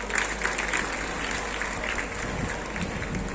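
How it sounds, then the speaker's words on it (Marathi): Audience applause at an annual prize-giving ceremony, steady crowd clapping that carries on for the whole stretch without a break. "टाळ्या वाजवायच्या."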